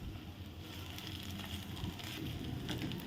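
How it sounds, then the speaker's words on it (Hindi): Chicken frying with garlic in a pan, a steady, close crackling sizzle that holds evenly throughout, with no voices. "अब लहसुन के साथ चिकन को भी अच्छे से फ्राई करेंगे"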